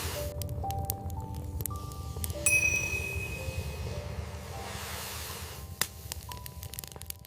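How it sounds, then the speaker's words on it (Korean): Clear, glassy bell-like chimes ring out as a sound effect, several soft dings and sustained tones at uneven intervals over a quiet, faintly rustling background. "영롱한 종소리가 납니다."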